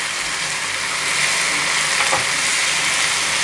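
Corn and other ingredients cooking under a lid in a pan, a steady broad bubbling sizzle that stays even and fairly loud from start to finish, without any voices.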